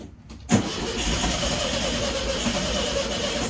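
Engine of a 1963 Volkswagen Beetle with wiring faults cranks and catches after a brief pause, then runs as a steady, rough, loud drone that won't settle into a proper idle.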